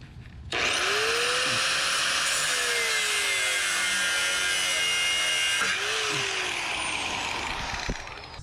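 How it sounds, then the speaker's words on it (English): A loud power tool whines steadily for several seconds while removing a rusted part from a jet ski trailer, its pitch dipping under load midway, then cuts off near the end. "I got a power tool in my hand"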